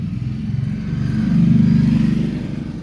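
A motorcycle passes by, its low engine drone swelling to a peak midway and then easing off, heard alone with no talking.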